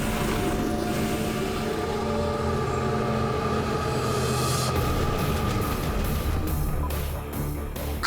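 Cartoon train engine rumbling continuously throughout, a steady mechanical drone with rail clatter, loud and close with no talking over it.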